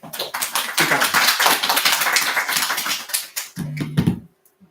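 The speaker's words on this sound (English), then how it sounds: "please welcome him with big clap" An audience at a seminar applauds to welcome a speaker, with dense, brisk clapping that runs for about four seconds and then stops abruptly.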